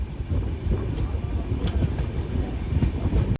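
The Kanchankanya Express from Sealdah to Siliguri pulls into Bagdogra station, heard from on board as a steady, close rolling rumble with occasional wheel clicks and a faint high squeal.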